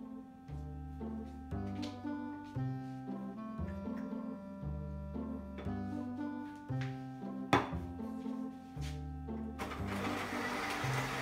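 An electric mixer whips egg whites at close range, whirring steadily, its motor pitch shifting in uneven pulses as the beaters work, with occasional knocks against the bowl.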